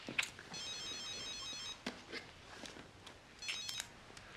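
A telephone rings in a domestic TV drama scene, with two distinct bursts of electronic trilling ringtone separated by a pause, moderately close but fairly quiet overall.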